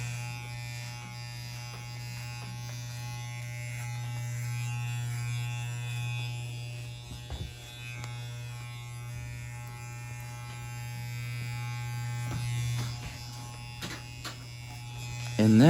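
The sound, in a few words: hair clipper buzzing with guard number 2 closed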